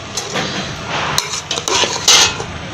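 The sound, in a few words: mixing spiced rice for biryani in a pot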